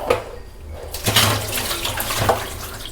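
Soaking water is poured off sweet potatoes, a close and fairly loud splashing pour that surges in a few bursts.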